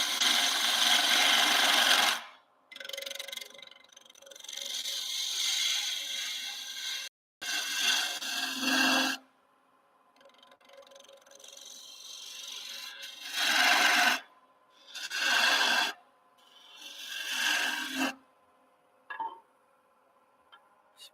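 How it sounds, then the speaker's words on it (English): A spindle gouge scrapes and cuts wood turning on a lathe, rasping in several separate passes of a few seconds each with short quiet gaps, close and fairly soft. "This is the Mike Mahoney spindle gouge, bowl gouge"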